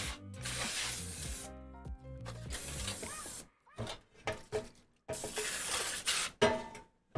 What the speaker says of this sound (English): We're also going to be spraying some oil on top of the wings.